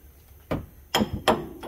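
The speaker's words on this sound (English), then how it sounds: "using a hammer and drift" A hammer strikes a drift against a car axle during an axle replacement, with four sharp metallic taps at uneven intervals, close and clear.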